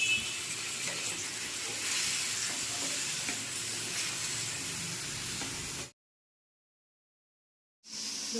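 Steady sizzling of onions, tomatoes, green chilies, garlic and ginger frying in a pan, a broad hiss with faint stirring scrapes, then a brief cut to silence before the sizzle returns.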